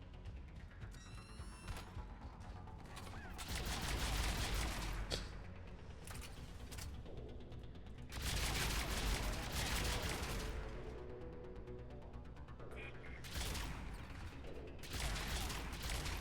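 A gun firing in Mass Effect 3 Legendary Edition, with dense bursts of mechanical, rattling shots in several loud stretches over steady game ambience.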